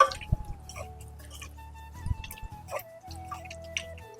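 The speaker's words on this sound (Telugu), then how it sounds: "సో ఇప్పుడు ఇవన్నిటిని చేయాలంటే కలపాలి. మంచి కలపాలి అన్నిటిని." Chicken pieces being mixed by hand with yogurt and chili powder for a curry marinade, giving soft wet squelching and squishing sounds in bursts, close up and alone.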